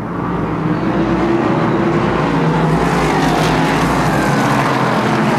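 Race cars roar around a super short track during a heat race, a dense, continuous engine drone that stays loud and close throughout, with no voices.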